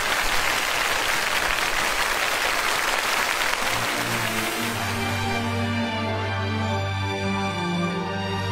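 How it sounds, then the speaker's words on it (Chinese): Audience applause welcoming child singer Chen Shengfu onto a CCTV music stage, a dense steady clatter of clapping for about four seconds before sustained music tones take over. "掌声有请陈胜夫小朋友。"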